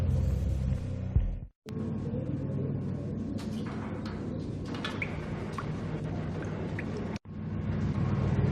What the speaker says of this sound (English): The old service elevator rumbled down to the bowels of Jack Lupino's hotel.